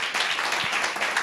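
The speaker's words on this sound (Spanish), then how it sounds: "Denle un aplauso al Señor." A church congregation bursts into steady, dense applause, many hands clapping at once in a continuous wash of sound for a moment.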